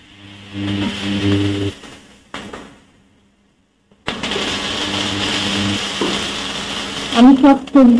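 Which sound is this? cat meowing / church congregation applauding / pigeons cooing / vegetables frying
vegetables frying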